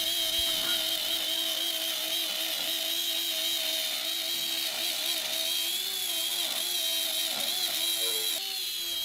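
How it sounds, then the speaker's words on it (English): A router fitted with a bearing bit trims MDF along a template, giving a continuous high-pitched whine that strains and wavers slightly, loud and close with no talking. "You can hear the bit really struggling."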